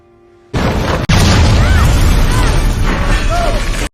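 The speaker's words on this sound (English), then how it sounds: "They run outside before the place is exploded." A building blows up in an alien invasion movie: one massive, roaring explosion bursts in after a brief quiet and rumbles on, loud and steady, with debris crackling through it.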